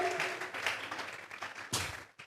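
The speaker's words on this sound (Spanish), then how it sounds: "Vamos a regalarle ofrenda de palmas al Dios de la gloria." Church congregation clapping together as an offering of applause to God, a moderate burst of many hands under scattered voices, fading then swelling again near the end.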